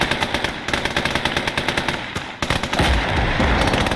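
A rapid series of sharp, evenly spaced bangs from the French forces' 203mm gun in Gates of Hell, an Ostfront World War 1 mod. The bangs then give way to a louder, dense roar of continued fire.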